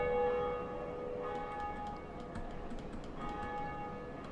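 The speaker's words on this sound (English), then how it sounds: "now that the bell is rung" A church bell rings in Dark Souls, its sustained, ringing tones layered over a dense, steady background hum with no voices.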